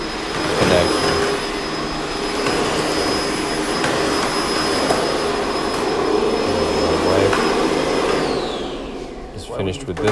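A vacuum cleaner runs steadily over carpet in an emptied condo during move-out cleaning, a loud continuous whine with a high tone, cutting off near the end as it winds down.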